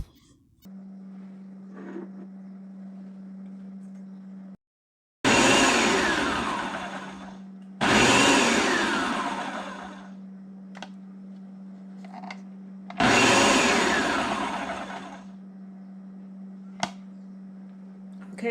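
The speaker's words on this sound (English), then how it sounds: "Now I am adding into the food processor the dry ingredients with the butter." A food processor mixing dry ingredients with butter for Jamaican festival dough, running in three loud whirring bursts of a few seconds each, separated by pauses and a steady low hum, close up with no voice.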